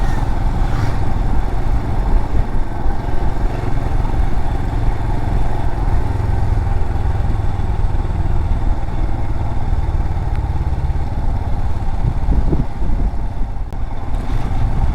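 A steady, loud engine rumble runs throughout, like motorcycles rolling past nearby, with no speech.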